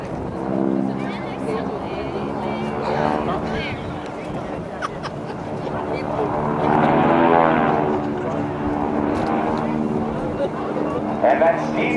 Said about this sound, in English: Let's listen to these 600 horsepower engines as they roar by.